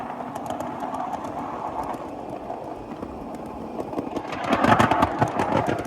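A 7.5 inch gauge ride-on train on a mainline rolls steadily, then rattles louder and busier over a diamond crossing near the end, with clacking wheel impacts building up close by.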